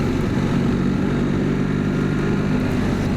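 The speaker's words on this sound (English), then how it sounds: "It's got a bit of a nice noise that does come up through the forks here from the engine." BMW R1300 RT motorcycle engine giving a steady, low rumble while riding, continuous and fairly loud throughout with no talk over it.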